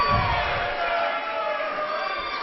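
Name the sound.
wrestling crowd cheering in a packed house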